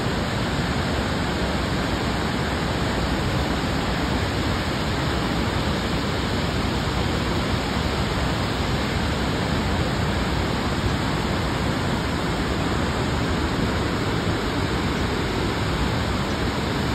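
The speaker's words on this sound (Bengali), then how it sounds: "অনেক সুন্দর ঝর্ণা।" Steady, dense roar of a waterfall at Croton Point Park, New York, a broad rushing wash of falling water heard up close and loud, continuous throughout without any voices.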